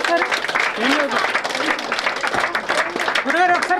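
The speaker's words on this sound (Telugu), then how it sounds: "అందరూ చప్పట్లు కొట్టండి." An audience at a meeting claps in a loose, sustained round of applause while several voices talk over it close by.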